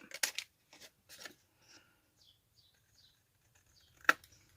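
A few crisp snips of scissors cutting paper, close and sharp, separated by pauses, with one louder snip near the end.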